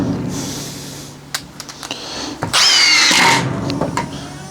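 A Milwaukee M18 FID3 cordless impact driver sinks a long 4- to 5-inch screw in one loud, close burst of whining, rattling impacts lasting about a second, after a few quieter knocks and clicks.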